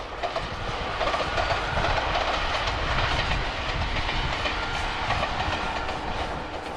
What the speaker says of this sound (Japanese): 赤根線なんで、赤根線列車ですね。